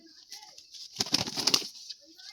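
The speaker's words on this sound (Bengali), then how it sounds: "পায়রা দেখো ছেড়েছে এখন" Pet pigeons released from a hand at a bird sale, giving a short burst of wing flapping near the middle, with soft cooing and faint background noise around it.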